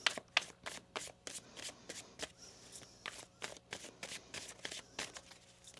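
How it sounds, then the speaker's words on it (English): Tarot cards shuffled by hand in a run of quick riffles and slaps, a dozen or so crisp bursts in an uneven rhythm, close and fairly quiet, with no talking. "One more shuffle."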